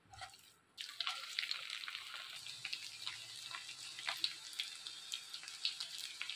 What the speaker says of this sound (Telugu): ఈ విధంగా వీటిని కూడా బాగా గోల్డెన్ కలర్లోకి వచ్చేంత వరకు వేపుకోవాలి.